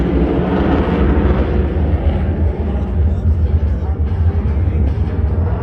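An RAF Typhoon jet at the Blackpool airshow with full afterburners lit, up to 42,000 pounds of thrust, producing a loud, continuous, rumbling roar that fills the whole stretch without letup.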